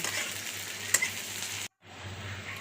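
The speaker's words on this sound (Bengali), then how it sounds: "তার মধ্যে পেঁয়াজ কুচি দিয়ে নেড়ে চেড়ে নেব তারপর রসুন কুচিটা দিয়ে আবারও নেড়ে চেড়ে নেব" Chopped onion and garlic sizzle steadily in hot oil in a pan while being stirred, with a brief scrape near the middle, a sudden short cutoff, then the frying hiss resumes on its own.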